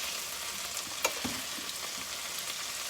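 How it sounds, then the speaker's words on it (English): Chicken fries in olive oil in a pan, a faint steady sizzle with a small clink and light stirring noises, heard close but quiet with no talk. "Oh, it's so good, just cooking it in that olive oil"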